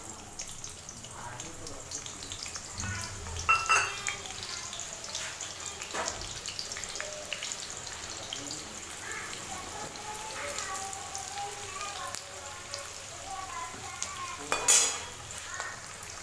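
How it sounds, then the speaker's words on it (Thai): Shallots sizzle in hot oil in a wok for a vegan Thai custard dessert, a soft continuous frying hiss with occasional clinks and stirs, fairly quiet and close. "ในกระทะนี้ตั้งน้ำมันไว้เรียบร้อยแล้วนะคะ แล้วก็เท หอมลงไปเลย"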